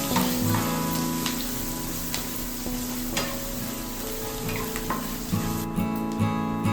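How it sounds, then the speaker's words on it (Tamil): Onions and chillies sizzle and crackle steadily in hot oil while sautéing for carrot capsicum rice, with occasional stirring clinks and scrapes, close and continuous without talk. "இதை எல்லாத்தையும் சேர்த்துட்டு நல்லா வதக்கிக்கலாம்"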